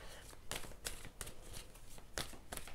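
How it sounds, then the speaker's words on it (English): A deck of tarot cards is shuffled by hand, quiet riffling bursts and flicks repeating in uneven rhythm at close range. "I'll shuffle over here"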